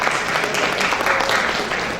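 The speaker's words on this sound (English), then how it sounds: "yes, you can clap for that." Guests at a 2016 banquet break into applause, a continuous spread of clapping from a seated audience heard at moderate volume throughout.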